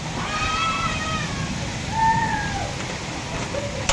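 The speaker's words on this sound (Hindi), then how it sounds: "अभी बारिश घर में भी आ रही है" Heavy rain pours down steadily around a house as water comes inside, a dense hissing wash with a brief surge, while children's high shouts and voices rise faintly above it.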